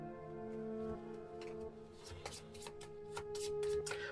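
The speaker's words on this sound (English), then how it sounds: "And then this gets shuffled back in." Playing cards from a Resident Evil board game being shuffled by hand at a table, a series of quick riffling and sliding bursts close by.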